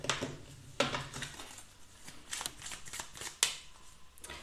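Tarot cards being shuffled and drawn, a series of crisp close riffling flicks and sharp snapping card slaps, quiet and irregular, with no talking.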